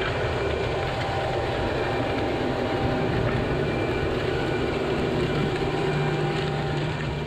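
A 2015 Deutz-Fahr tractor pulling a six-row seeder while sowing corn in a field. The engine drones in a loud, steady rumble that runs unbroken from start to finish, with no speech.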